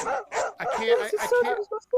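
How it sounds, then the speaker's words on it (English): Dogs bark and yip repeatedly in short bursts close by, overlapping with a person talking. "I can't hear over the dogs barking"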